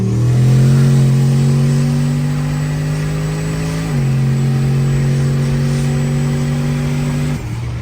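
A turbocharged burnout Cadillac with an LS engine runs a loud, steady high rev that dips briefly and then holds again, close and dominant with no talking.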